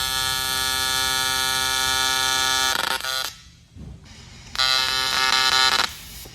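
AC TIG arc from a YesWelder TIG200P burning in on aluminum at up to 150 amps, a loud steady buzzing hum that cuts out briefly then strikes up again for a few more seconds.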